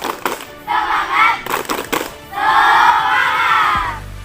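Students at a school event clap and shout in a group chant, two bursts of crowd noise with rhythmic hand claps and voices, fairly loud and close, the second burst longer and fuller.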